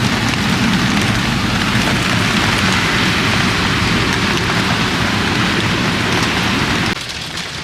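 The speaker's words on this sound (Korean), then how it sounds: "바깥에서 들리는 이 빗소리보다 차 안에서 특히 루프로 몽글몽글 맺히는 이런 물방울들도 보고요" Steady, heavy rain drums on the roof of a Chevrolet Traverse parked by the sea during a car-camping night, a continuous close hiss and patter with no voices, dropping slightly in level near the end.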